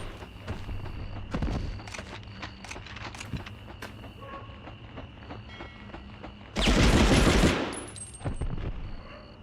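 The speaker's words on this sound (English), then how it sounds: "Crossfire gunfight" Rapid gunfire crackles through a crossfire gunfight in the Medal of Honor Underground video game, with scattered shots throughout and a loud, dense burst of firing near the end.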